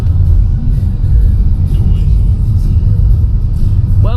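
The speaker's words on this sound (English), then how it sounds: "Still stuck in fucking traffic." Heavy car traffic on a London road, heard from inside a vehicle as a loud, steady low rumble that continues unbroken for several seconds.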